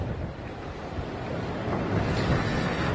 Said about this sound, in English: It's getting really windy again out here, getting almost knocked over here right now.